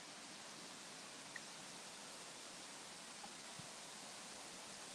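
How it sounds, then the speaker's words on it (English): A small waterfall beside a frozen walking path, heard as a steady, soft broadband rush of falling water, continuous and even throughout with no voices. "Another little dinky waterfall on that side."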